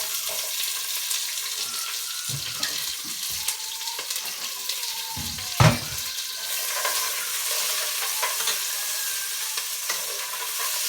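Sliced onions sizzle steadily in a hot pan, a continuous broadband hiss with a few sharp clinks and stirring knocks, one louder clatter near the middle, close and without talk.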